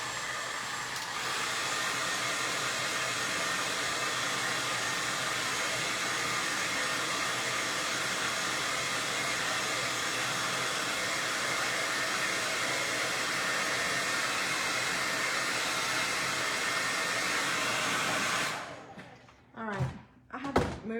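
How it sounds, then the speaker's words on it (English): A blow dryer drying paint on a Christmas rag tree roars steadily and loudly for most of the stretch, then shuts off, leaving a few clunks and thumps of handling. "Okay, I'm gonna blow dry this real quick, so make some noise"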